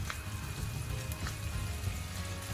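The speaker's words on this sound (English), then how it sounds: "Begin to fry." Garlic and ginger fry in hot coconut oil with a soft, steady crackling sizzle that stays even and close for a couple of seconds, with no voices.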